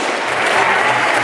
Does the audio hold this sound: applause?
yes